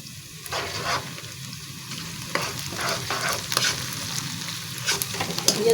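Onions sizzling in oil in a karahi pan with whole garam masala for chicken karahi, a continuous crackling fry broken by repeated scraping strokes of a spoon stirring, close and fairly loud.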